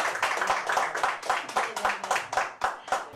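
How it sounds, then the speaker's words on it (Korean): An audience at a Korean talk show event claps to welcome a guest speaker, producing a loud, rhythmic, close-sounding round of applause with pulsing clusters of claps throughout. "여러분 큰 박수로 맞이해 주십시오"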